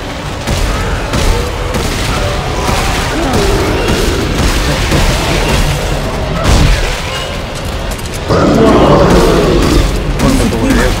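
Rapid bursts of gunfire from Dead Space 3 rattle on continuously alongside booming impacts and game action, with a louder stretch near the end and voices talking over it.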